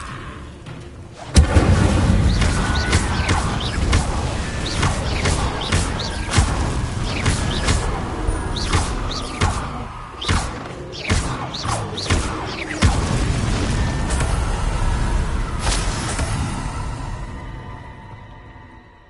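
Repeated Incendio fire spells cast in Hogwarts Legacy, a series of sharp bursts and whooshing crackles over a rumbling game soundscape, loud and close, with no voices.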